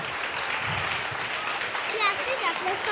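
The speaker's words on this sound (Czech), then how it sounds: "Já si zatleskám i sobě." An audience clapping at a kindergarten show, a steady patter of many hands through the room while an adult and children speak over it.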